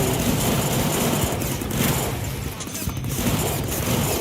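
Rapid gunfire rattles through a Deadpool PC game from 2013, a dense continuous burst of shots layered over engine-like rumble, loud and close for several seconds.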